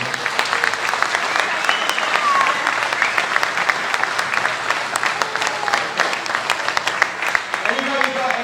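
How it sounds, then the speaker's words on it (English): At a Thunder Road event in Newport, an audience claps for motorcycle racer James Toseland, with continuous crowd applause and scattered whoops and cheers running through. "Big round of applause."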